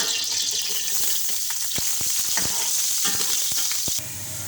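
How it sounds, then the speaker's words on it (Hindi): Chopped onion fries in about a spoonful of hot oil in a pan with a bright, constant sizzle. A few sharp clicks of stirring break through near the end, with no speech. "1 चम्मच के करीब डाल रही हूँ ऑयल, और ये प्याज डाल दूँगी।"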